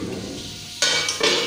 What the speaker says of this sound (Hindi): चला लेते हैं आलू।